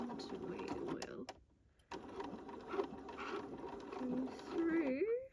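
Sewing machine running at a 4 stitch length while assembling a large clutch bag, a steady close whirring drone that stops briefly mid-way and resumes, with a voice talking over it.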